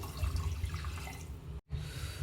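A cup of water pours into a cooking pot for rava pongal, a soft continuous splashing stream that stops abruptly, then resumes faintly after a short gap.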